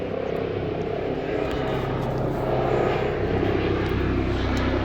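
A Canadair firefighting aircraft passes overhead, its steady propeller-engine drone loud and continuous throughout, filling the air without pause.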